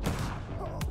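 Shotgun blasts in the fast-paced first-person shooter Mullet Madjack, a dense burst of close, loud gunfire packed into a single second over busy game noise.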